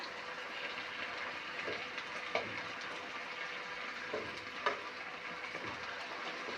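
Vegetables frying in a pan with garlic, onion and nigella seeds, a soft steady sizzle with a few faint stirring clinks, quiet and close, no talking.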